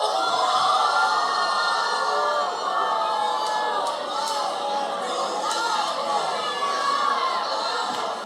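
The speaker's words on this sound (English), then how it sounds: "So the crowd is like devastated." A studio audience at a dating show reacts in shock, a sustained loud murmur of gasps, exclamations and overlapping chatter filling the whole stretch without a break.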